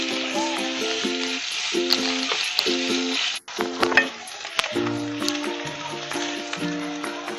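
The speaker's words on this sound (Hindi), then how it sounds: "अब अनियन को हम सौटे कर लेंगे।" Onions with curry leaves sautéing in a pan give a loud, steady sizzle with occasional stirring clatter, while background music plays throughout.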